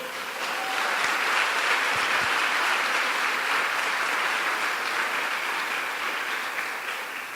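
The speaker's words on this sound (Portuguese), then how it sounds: "Você pode aplaudir ao Senhor?" A church congregation applauds steadily, a dense, loud wash of clapping that holds for several seconds and tapers slightly at the end, with no voices over it.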